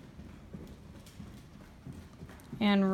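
Horse hooves clip-clop in a soft, steady rhythm on an arena surface during a dressage ride, faint and even, before a voice begins speaking near the end.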